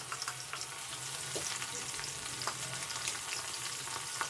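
Corn kernels fry in hot oil for a restaurant-style American crispy corn. There is a steady, close sizzle with occasional pops and soft stirring scrapes, and no talk.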